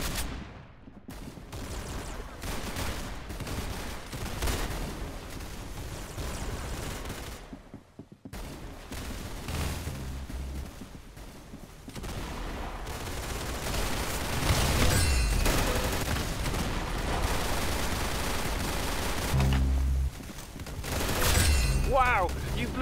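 Rapid bursts of gunfire in Roblox Arsenal, with repeated shots and crackling volleys of varying loudness across the span, under and between a voice talking.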